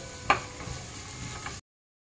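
Sliced onion drops into a hot pan with a sharp thud, then gives a brief, soft sizzle that lasts under two seconds before cutting off.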